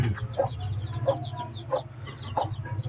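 An Aseel hen clucks with her chicks in a steady low rhythm, close by, while the chicks' high peeps repeat over it.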